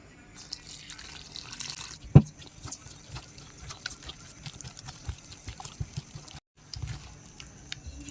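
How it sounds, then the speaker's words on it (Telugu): Water trickles and drips in small splashes into gram flour batter for mirchi bajji, with a sharp clink partway through and quiet handling noises around it. "ఇప్పుడు కొంచెం కొంచెం వాటర్ పోసుకుంటా కలుపుదాం"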